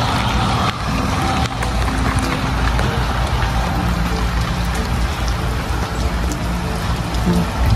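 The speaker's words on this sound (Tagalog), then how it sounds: "Lakas yung ulan." Heavy rain pours steadily with a dense, constant hiss and patter, no voices, continuous throughout.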